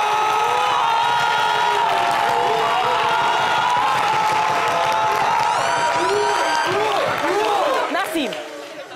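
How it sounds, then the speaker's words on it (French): A live audience at a televised dance battle claps, cheers and whoops loudly and continuously, with shrill shouts and whistles rising near the end. "on fait des applaudissements"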